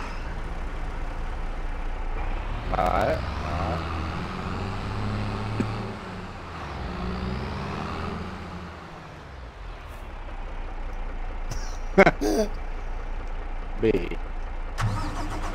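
Truck engine in the Farming Simulator 22 game runs steadily with a low mid-range drone and idle, rising and falling slightly while people talk over it, with a few brief clicks near the end.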